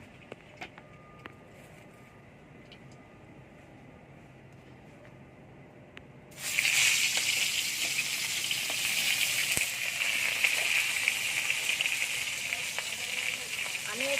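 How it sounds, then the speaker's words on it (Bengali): A hilsa fish head drops into hot oil in a pan and erupts into loud, steady sizzling frying that continues unbroken after a quiet start with faint kitchen clicks. "গরম হয়ে গেছে এবার তেল দিয়ে ইলিশ মাছের মাথাটা ভেজে নেব"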